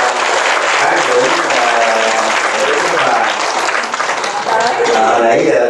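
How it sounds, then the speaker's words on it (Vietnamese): Sustained applause from a large crowd, steady and loud throughout, with some voices mixed into the clapping. "quý vị cho một tràng pháo tay nữa để tán thưởng"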